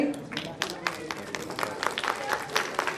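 An audience claps at a Kannada action-thriller teaser launch event for the film Phoenix; dense, steady applause fills the hall for a few seconds, fairly loud and continuous.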